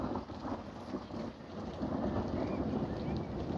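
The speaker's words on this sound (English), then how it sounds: "Still thundering" A thunderstorm rumbles with a continuous low roll of thunder while steady rain patters on surfaces nearby, a dense, unbroken wash of sound with no voices.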